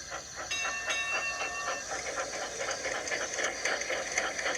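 Steam locomotives pull out of a railway yard with a steady hiss of steam and faint rhythmic clanking, a continuous moderately loud rail ambience with no voices.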